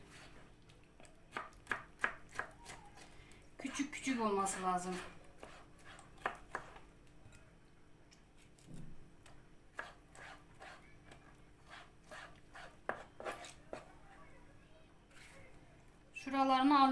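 Knife chopping peppers on a cutting board in quick irregular taps, interspersed with someone talking nearby and occasional clinks.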